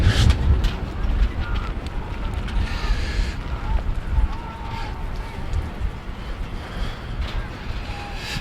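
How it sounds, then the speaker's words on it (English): Strong wind buffets the microphone outdoors at a boys' regional soccer game, a steady low roaring rumble that continues throughout, with faint crowd and field sounds beneath it. "there is a lot of wind"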